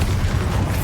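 A Bombarda explosion spell goes off in Hogwarts Legacy, a dense, booming blast with a heavy low rumble that fills the whole short moment at close, loud range.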